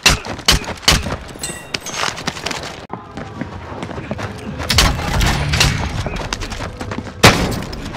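Rapid bursts of gunfire and booming shots from a Call of Duty Warzone Season 3 match, loud and close, with several volleys and impacts spread across the scene and brief speech in between.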